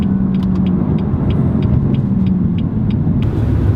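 Deep, steady engine rumble from a BMW M4 LCI Competition Package, loud and close, holding a constant low drone throughout with no clear revs, heard on its own.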